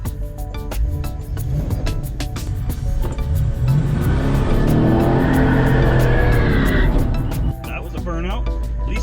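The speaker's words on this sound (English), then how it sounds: "That was a burnout." A car doing a burnout at a Midnight Mayhem drag racing event: a loud engine roars at high revs with a rising whine and tire noise, under crowd chatter and voices talking nearby.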